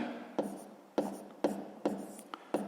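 A pen writing on paper during sixth-grade math working, with six brief scratchy strokes at roughly half-second intervals, close and quiet.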